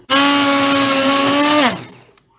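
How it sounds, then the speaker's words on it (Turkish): An electric blender purees lutenitsa, a Balkan roasted pepper sauce, into soup: one loud, steady motor whine runs for about a second and a half, then drops away as it is switched off. "Şimdi onları blenderdan geçireceğim."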